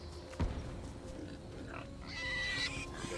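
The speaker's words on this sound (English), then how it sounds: "Ignore the flaming pigs, as they are for future me." Flaming pigs in Divinity Original Sin 2 give faint, scattered grunts and oinks over quiet game ambience. A brief thump comes early, and higher, brighter effects rise near the end.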